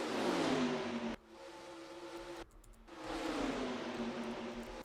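Race cars roar past at speed on the Atlanta oval in a racing video game, the engine note loud and steady, then dropping away briefly before another car swells back in.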